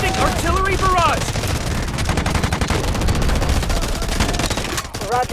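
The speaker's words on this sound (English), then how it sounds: "Artillery barrage incoming." An artillery barrage in the mobile shooter Delta Force Mobile rumbles as a dense, loud, unbroken stream of overlapping blasts and gunfire, with brief voices at the start and end.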